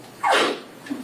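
A single sharp sneeze rings out in a quiet courtroom, a sudden close burst that fades within half a second, followed by a faint trailing sound.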